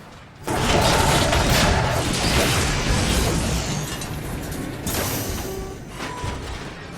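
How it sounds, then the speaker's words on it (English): A robot transforming in the video game Transformers: Rise of the Dark Spark, a dense, loud burst of clanking metallic mechanisms and crunching impacts sustained for several seconds without speech. "You can transform into a freaking gladiator robot"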